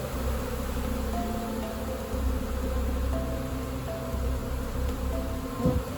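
A honeybee swarm cluster fans in a steady, dense buzz, close and continuous, with individual bees droning past now and then over the constant hum.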